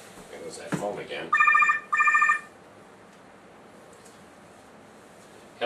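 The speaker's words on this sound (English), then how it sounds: "That phone again." A phone rings twice in short electronic trills, fairly close, after some brief rustling; then the room falls quiet.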